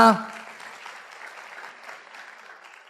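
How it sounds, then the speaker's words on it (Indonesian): Audience applause at a motivational talk, a loud burst at the start that quickly settles into steady, moderate clapping through the rest, with a voice briefly over the opening. "Tepuk tangan buat Anda semua."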